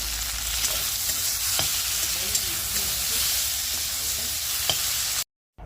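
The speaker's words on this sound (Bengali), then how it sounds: "তো এদিকে মাছটা ভেজে নিচ্ছি" Fish frying in a pan in a village kitchen, a steady broadband sizzle with stirring and faint clinks throughout, ending in a brief silence.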